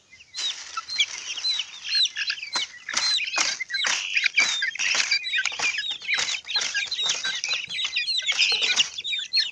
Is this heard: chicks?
yes